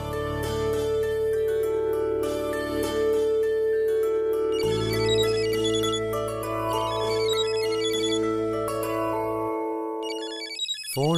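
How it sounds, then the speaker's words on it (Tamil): A mobile phone ringtone plays a loud melodic tune with sustained tones and shifting notes, continuing for several seconds before cutting off abruptly near the end, with no one talking over it. "ஃபோன் அடிக்குதுல, எடுத்து யாருன்னு பேசு."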